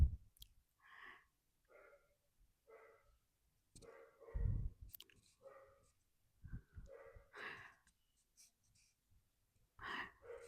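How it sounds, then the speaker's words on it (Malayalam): A dog whines in short, thin, repeated cries with irregular pauses, faint and some distance from a kitchen where rice-water halwa is being cooked. "ഇതിൻ്റെ മണം പുറത്തടിച്ചിട്ട് പട്ടി കരയുന്നുണ്ട് കേട്ടോ."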